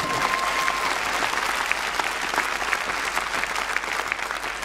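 Audience at a graduation ceremony breaking into a brief, dense burst of applause, loud and sustained with no voices over it.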